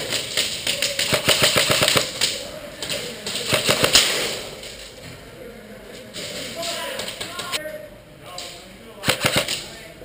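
Airsoft guns fire during a game in rapid bursts and single pops, clustered volleys near and mid-distance, with excited shouting voices throughout.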